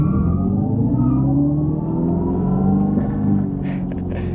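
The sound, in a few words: fake engine sound with backfire, electric Dodge Charger launch control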